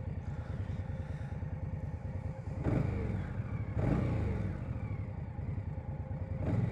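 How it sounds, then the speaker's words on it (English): A 2022 Indian Scout Bobber motorcycle engine idles with a low rumble, then revs up sharply three times, each burst quickly rising and slowly falling away. "It revs up quick, but it revs down slow."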